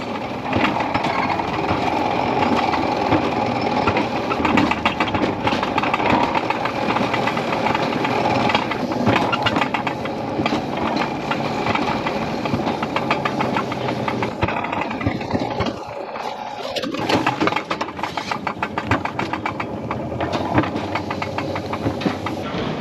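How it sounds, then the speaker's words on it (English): A roller coaster in Iraq runs continuously with a steady loud rumbling and rattling of cars on the track, close and dense throughout, briefly dipping near the end before resuming. "So there's actually 2 different tracks on the Iraqi roller coaster"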